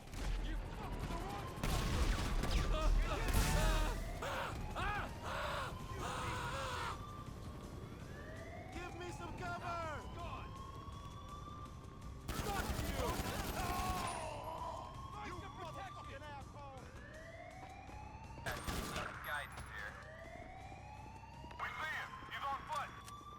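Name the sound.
gunfire in a video game battle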